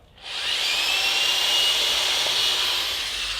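A power drill fitted with a standard bit bores a pilot hole through a wood board, a loud close continuous whine rising quickly and holding steady, no voices.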